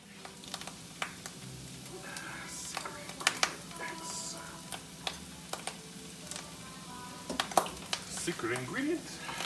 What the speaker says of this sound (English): So sounds like my sauteing needs a little attention.